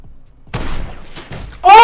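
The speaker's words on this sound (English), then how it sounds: "there's someone over there shooting" Gunfire in the video game Fortnite, a few loud bursts of shots and impacts in quick succession with brief gaps, close and sharp, with a voice near the end.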